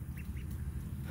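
Pet ducks quack softly in a couple of short, nasal calls over a steady low rumble of background noise.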